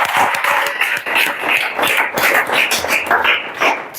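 A classroom group claps in a dense, steady patter of hand claps lasting several seconds, fairly close and even in level.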